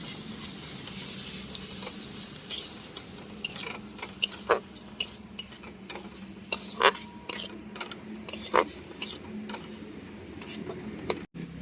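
Fried onion stirred with ginger-garlic-green chili paste in a pan while cooking a pointed gourd and egg dish, giving soft, steady sizzling with frequent scraping and clinking spoon strokes against the metal, close up.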